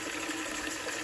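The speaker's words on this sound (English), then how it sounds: "Filling up all of the jars with hot water to sterilize them." Hot water pouring into canning jars to sterilize them, a brief steady gush and hiss of running water, close and unbroken.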